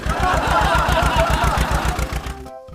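An old tractor engine runs nearby with a loud, steady rhythmic chugging and knocking beat, then cuts off abruptly near the end.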